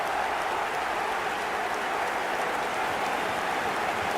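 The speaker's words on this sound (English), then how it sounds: "Even some of the opposing fans are clapping that." A virtual stadium crowd in eFootball 2025 claps steadily for a goal. The dense applause is continuous and crowd-wide, sounding a little distant, with no commentary over it.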